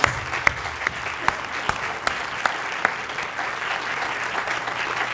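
Audience at an ACLU Michigan meeting applauds a viola player, a steady crowd clapping with a few sharper near claps standing out at regular intervals, continuing without talk.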